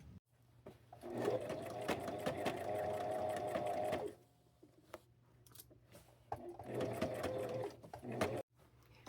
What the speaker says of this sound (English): I'm just going to sew this along this line right here to the front of the dress.